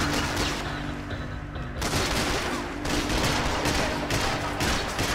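Heavy gunfire from the shooter game Max Payne 3, sustained rapid bursts and overlapping shots filling the whole stretch at steady loud volume, with no talking over it.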